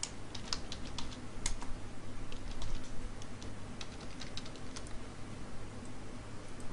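Keystrokes on a computer keyboard while Java code is entered, an irregular run of soft clicks at moderate distance over a steady low room hum, with no talking.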